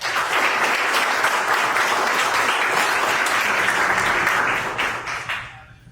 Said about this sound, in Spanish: les pido por favor darles la bienvenida con un aplauso